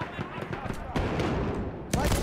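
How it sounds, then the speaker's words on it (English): Battlefield 1 trench warfare gunfire, a steady rattle of rifle and machine gun shots with sharp louder bursts near the start, middle and end, beneath indistinct game ambience and voices. "They're firing at us hard."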